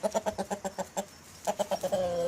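A young Sussex Light rooster gives a quick series of short, evenly spaced calls, a pause, then another run ending in a drawn-out note, fairly close and with no talk.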